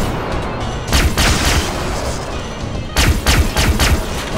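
Gunfire in Far Cry 3 Blood Dragon sounds as two clusters of heavy booming shots, loud and close, separated by about two seconds of dense rumbling game noise.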